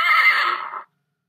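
A horse whinnies in a strange head-feeding video game, one loud, bright neigh lasting under a second that breaks off abruptly into silence, with no talk over it.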